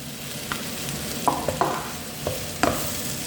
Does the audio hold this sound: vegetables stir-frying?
yes